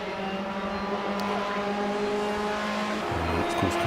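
A Project CARS race car holding a steady, loud engine drone through a chicane, with a brief tyre scrub and a shift in engine note near the end.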